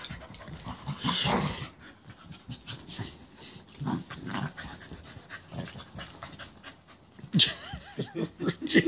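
A playful puppy pants rapidly and snuffles close by, with scattered whimpers and scuffling, while people laugh and talk over the sounds of play.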